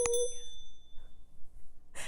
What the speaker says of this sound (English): hit that notification bell. Bing.